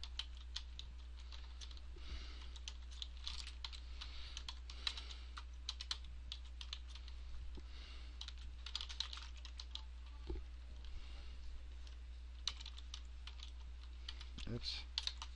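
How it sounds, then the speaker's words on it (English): Steady typing on a computer keyboard during theme coding, with quick irregular keystrokes running throughout at a fairly quiet level over a low steady hum, and no voices. "So we can just go ahead and type that."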